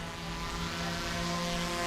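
A DJI Mavic 3 drone running beta firmware flies nearby, producing a constant, even propeller buzz and whine that fills the whole clip without a break.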